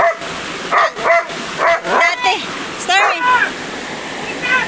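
Large dogs bark and yip repeatedly beside a waterfall stream where they swim, loud close barks in uneven bursts over a constant rush of falling water.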